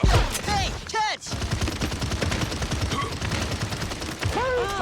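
Rapid gunshots in the hero shooter video game Paladins chatter in a dense, steady stream, mixed with game voice lines and effects that come and go over the firing.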